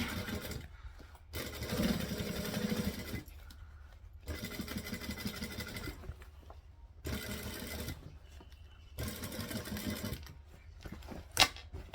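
A sewing machine stitching a bag in several bursts of steady whirring, each a second or two long, separated by pauses with faint handling clicks.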